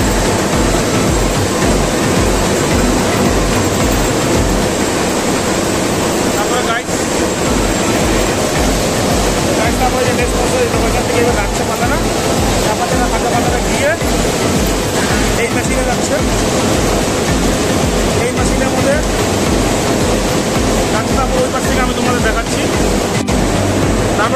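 Tea factory machinery processing raw tea leaves gives off a loud, dense, continuous rumble and rushing roar with a steady mechanical pulse, and a voice speaks faintly underneath.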